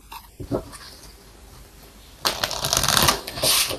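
Oracle cards shuffled for a tarot reading, a few faint riffles early on, then a loud, dense burst of rapid card flutter and snapping close by for the last second and a half, with no voice.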